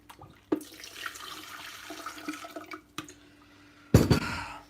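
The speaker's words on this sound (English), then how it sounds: "I need some water because I need to make this tea" Tap water runs steadily into a cup for ginger tea in a home kitchen, a soft continuous trickle with small clatters, ending in a louder gush.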